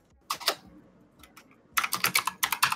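Keys clatter on a computer keyboard up close, first a few scattered taps after near silence, then a fast run of rapid clacking, with no voices.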